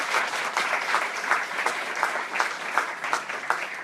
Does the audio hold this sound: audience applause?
yes